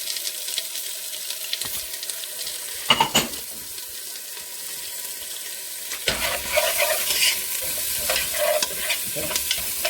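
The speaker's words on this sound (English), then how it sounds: "Saute the onions and garlic for about a minute." Onions and garlic sauté in a pot for a goat meat stew, giving a steady close sizzle with repeated stirring scrapes and clinks throughout, no talking.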